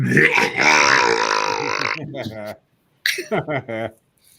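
A voice actor holds one long, drawn-out burp, loud and close, that rumbles on for about two seconds before trailing off, followed by a brief pause and a few short vocal bursts.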